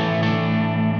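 Electric guitar played hard through a Masotti OD Box overdrive pedal, the tone beginning to grit and compress into light breakup; a sustained, dense chord rings steadily and loudly for the whole second.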